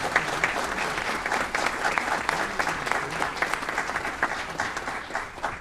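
A city council meeting audience claps steadily and continuously, a dense wash of many hands at moderate distance with a few faint voices mixed in.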